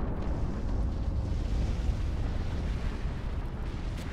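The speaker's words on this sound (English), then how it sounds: "See lots of autocannons, lots of missiles going off." A space battle in Sins of Empires with autocannons and missiles firing, heard as a dense, constant wall of loud booming, blasts and crackle without any breaks, and no talking.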